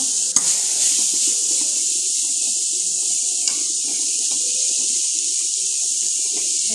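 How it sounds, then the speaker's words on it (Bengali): Vegetable bhaji with roasted ground cumin frying in a pan while being stirred, a constant hissing sizzle that stays steady and close, broken by a sharp clink or two of a utensil, with no talking. "সেটা দিলাম আর একটু নেড়ে চেড়ে নেব"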